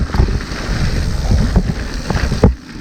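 Wind buffets a microphone on a mountain bike climbing the Hankey Mountain road trail near Stokesville, a loud continuous rumbling roar with gusty swells and a few knocking bumps.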